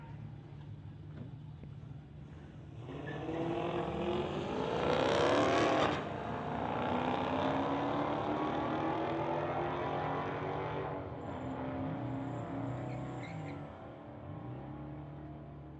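Two street-legal drag cars, a 2010 Dodge against a Chrysler, launch and roar down a strip, engines swelling loud as they pass, then fading into a steady distant drone.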